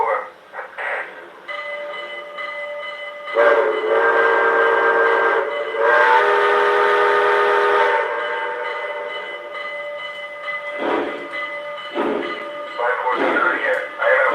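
Video-game train pulls out outbound from a station, with long sustained whistle or horn blasts over a rumbling engine and wheel noise, fairly loud and steady, fading into softer bursts near the end.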